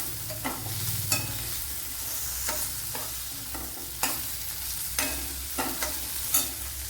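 Sautéed onions with chopped medium tomato being stirred in a cooking pan for a green gram curry: a steady soft sizzle broken by a spoon scraping and clinking against the pan about once every second, close by, with no talking.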